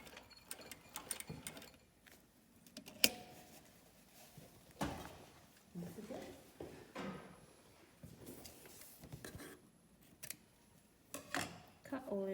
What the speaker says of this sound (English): Cut all of your threads off.